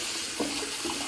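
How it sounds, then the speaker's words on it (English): Hot water runs from a tap in an empty house, a steady close rushing splash with slight fluctuations throughout. "Hot water coming out the hot water tap"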